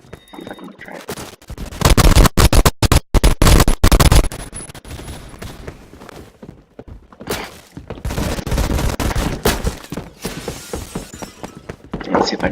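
A Sten and a grease gun fire in Phantom Forces, in loud, fast bursts of gunfire with short pauses between them, while a player talks over the shots.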